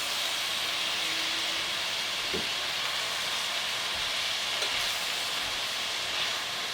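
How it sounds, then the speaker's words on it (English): A steady, bright hiss of seasoned potatoes for hash sizzling in a hot pan, constant and close, with a couple of soft clinks in the middle. "You hear the way that's sizzling, guys?"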